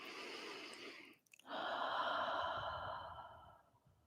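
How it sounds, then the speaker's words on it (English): A yoga practitioner gives two long, soft, hissing ujjayi exhales through a constricted throat, heard close up and quiet, with a brief pause between them. "we're going to take that same concept of the victorious breath"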